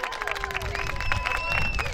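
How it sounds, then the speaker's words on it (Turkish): A live audience claps and cheers in brief applause, a steady crowd wash sitting under a sustained musical tone. "Kendiniz bir alkışlayın bakalım."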